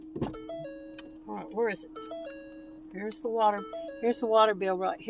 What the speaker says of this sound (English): that's my doorbell, my alarm ringing.